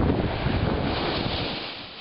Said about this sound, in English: The winds are blowing really, really strong today, and the water's coming right up into the sidewalk in some areas.